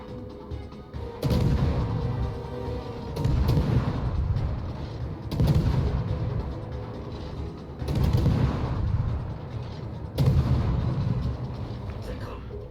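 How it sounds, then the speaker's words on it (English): Heavy main-gun salvos from the Soviet battleship Kremlin in the naval combat game World of Warships: five loud, booming blasts about two seconds apart, each followed by a rumbling, creaking decay. "Just waiting for this Kremlin to shoot."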